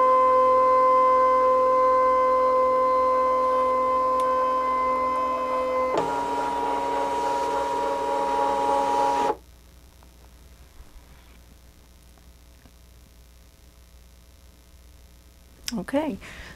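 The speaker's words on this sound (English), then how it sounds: "it's going to take our mat all the way through the machine, and it's going to scan that image in" A Brother ScanNCut machine feeding a cutting mat through and scanning it, a loud steady mechanical hum with a tonal whine that shifts pitch partway through, then stops abruptly, leaving a quiet stretch broken by a final short rattle.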